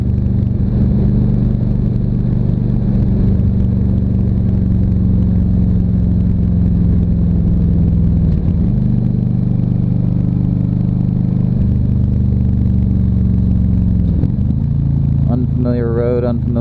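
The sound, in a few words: motorcycle engine revving while riding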